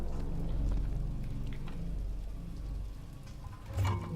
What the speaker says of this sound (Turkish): Yağmur da yağıyor tamlık.